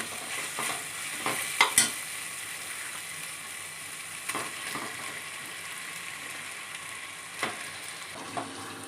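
Prawns stirred and fried in spiced oil for biryani make a steady close sizzle, broken by intermittent scraping clicks from the spoon against the pan, with no voices.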